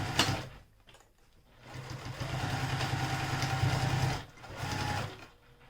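A sewing machine stitches along a bag's bottom stabilizer with a quiet, steady mechanical whir in two runs, a long one and then a shorter burst after a brief pause, with no talking.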